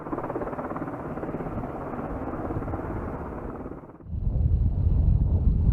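A military helicopter's rotor thrums steadily overhead, then the sound shifts to a deeper, louder rumble as it passes close by.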